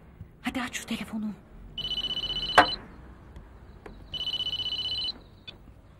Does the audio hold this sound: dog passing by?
no